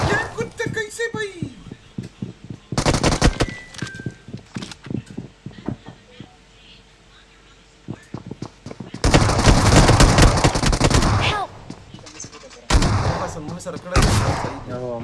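Gunfire bursts in the PUBG Mobile battle royale game, loud rapid volleys in several clusters mixed with shorter shots, with excited voices and commentary talking over and between the shooting.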